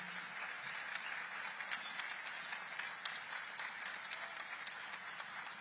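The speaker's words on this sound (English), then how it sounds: "I think the applause can be louder" A large audience at an Indian anniversary ceremony honoring actor Rajinikanth gives sustained applause, a dense crowd of claps with sharper individual hand claps standing out, steady and moderately distant throughout.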